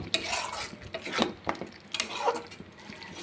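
Salt is stirred into a fish curry in a pan, a spoon scraping and clinking against the metal in quick irregular strokes over a faint simmer, close up and without talk.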